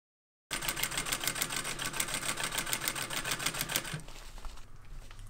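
A sewing machine stitches grosgrain on a synthetic top quilt with a fast, regular mechanical clatter at close range, then the needle stops and a few handling bumps follow near the end.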